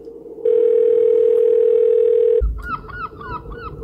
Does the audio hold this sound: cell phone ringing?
yes